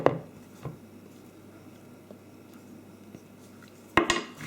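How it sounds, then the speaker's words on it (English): A spatula scrapes soft low-protein fruit scone mixture around a bowl, giving a few light knocks and scrapes against the sides with quiet gaps between them, close and soft, no voices. "scrape it down, scrape the mixture down like that into one lump"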